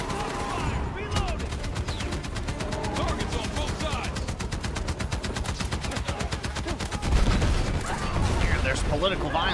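Sustained automatic gunfire during a Battlefield 6 campaign firefight: dense, rapid bursts rattle nearly the whole time, loud and close, with a heavier blast near the end and voices talking beneath the shooting.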